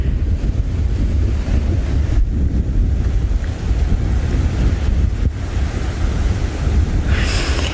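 Strong wind buffeting a microphone outdoors in the African bush near a hyena den, a loud continuous rumbling roar with gusty swells and brief dips.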